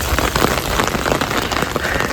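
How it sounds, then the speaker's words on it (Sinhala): Heavy rain pours steadily onto surfaces nearby, a dense, even patter with no pauses and no voices over it. "මේ වහින අන්තිම වැස්ස"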